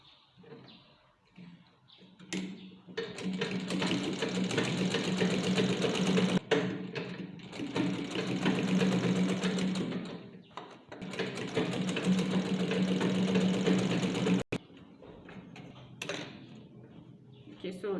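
A sewing machine stitches a home-made fabric face mask in two long runs of rapid, steady mechanical whirring, each a few seconds, separated by short pauses with handling clicks and brief quiet moments.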